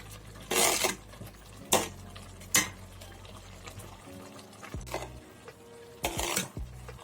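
A spoon stirs prawn biryani in a cooking pot, giving several loud scraping clanks against the metal at irregular intervals, close by, with a low simmering background.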